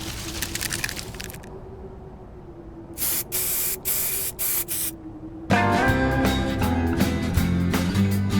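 Spray can bursts hiss in Doctor Who: Infinity, the flea-collar repellent spray: a long spray, then four or five short sharp blasts, followed by a swell of game music and a low hum.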